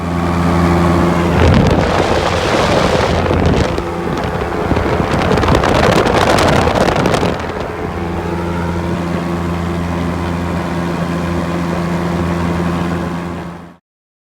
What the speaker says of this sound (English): In this next clip you see the RPM go up from 3600 to 3900 and the speed goes up about 6 miles an hour